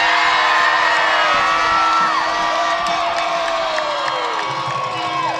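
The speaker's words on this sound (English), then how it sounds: "you hear the roar from the crowd" A football stadium crowd at a high school playoff game roars steadily, with whoops and cheering layered over a dense wall of voices and the faint sound of a public address announcer underneath.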